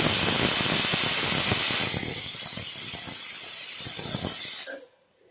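A pressure cooker of vegetable curry vents loud, steady steam with a broadband hiss that eases after two seconds and then cuts off abruptly near the end, heard alone.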